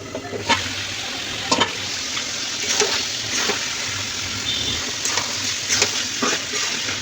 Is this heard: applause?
no